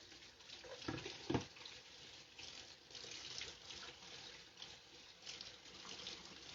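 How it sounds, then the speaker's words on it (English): Hands are rinsed under a running kitchen tap, a steady faint stream of water with a couple of splashy bursts as the hands pass through, heard alone at low level. "I'm going to rinse my hands off."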